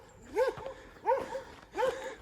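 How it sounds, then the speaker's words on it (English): A small dog barks excitedly three times, evenly spaced about 0.7 seconds apart, each bark a sharp yappy burst heard fairly clearly over faint background noise. "That little doggie's getting bonkers down there."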